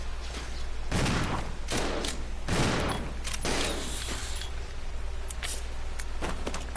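Shotgun blasts in the video game Resident Evil 0: several loud, sharp booming shots spaced irregularly over a steady low background hum, with no talking.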